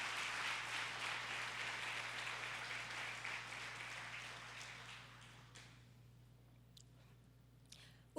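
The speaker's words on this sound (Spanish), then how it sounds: "Dale un fuerte aplauso al Señor." A church congregation applauds during a service, the clapping fairly distant and fading away after about five seconds, leaving near-silence with a steady low hum and a few faint clicks.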